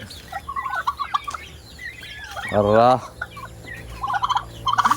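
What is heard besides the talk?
pet turkey gobbling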